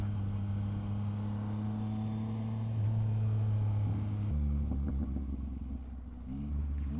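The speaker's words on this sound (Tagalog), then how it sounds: "Grabe yung tunog ng upshifts guys." A Yamaha MT-09 SP motorcycle engine drones steadily, then its pitch drops and climbs again as it shifts up through the gears, close and fairly loud.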